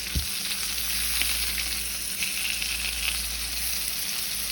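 A salmon fillet sizzles steadily in a hot pan just after flipping, a constant bright frying crackle close up, with a light bump near the start.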